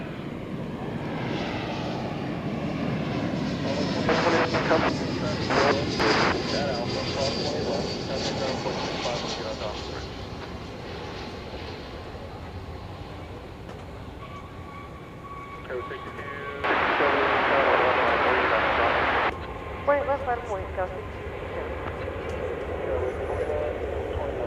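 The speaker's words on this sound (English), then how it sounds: "Flight 1832 arriving from Denver, an Airbus A321." An Airbus A321 jet arriving at DFW Airport on its flight in from Denver makes a broad, sustained roar that swells and holds, with a burst of harsher noise late on and people talking over it.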